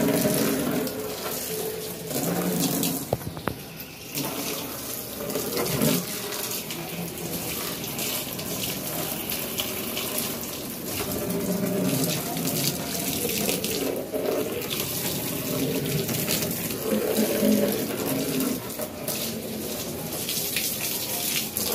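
Tap water runs steadily into a sink while a dusty new storage box is rinsed, a continuous close splashing rush with small shifts in flow, no speech over it.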